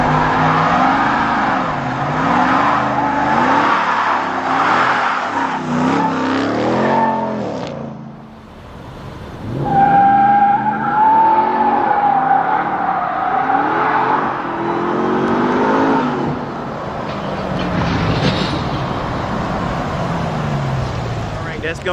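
A Ram TRX pickup driven in 2-wheel drive mode revs and accelerates hard, its engine rising and falling with tire squeal, while people talk over it.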